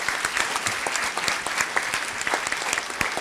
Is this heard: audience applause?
yes